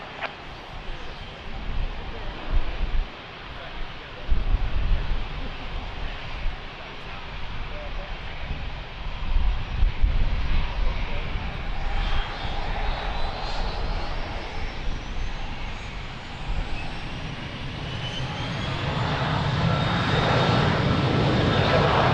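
An airliner powers up and rolls for takeoff on runway 02 at Lisbon Airport, with a broad, steady engine roar building and rising in pitch over about twenty seconds, heard from a distance amid wind-like noise.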